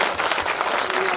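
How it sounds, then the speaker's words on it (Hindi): Audience applause at a Hindi kavi sammelan poetry recital, with a dense, steady wash of many hands clapping together from a large crowd, full and continuous throughout. "जब दोनों हाथ उठाकर एक बार कम से कम 10 बार तालियां"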